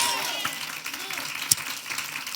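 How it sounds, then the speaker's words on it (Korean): Church congregation applauding during a Sunday morning worship service, a diffuse spread of hand claps under a faint room wash with a voice speaking over it. "먼저 우리 하나님께 박수로 영광 돌리겠습니다."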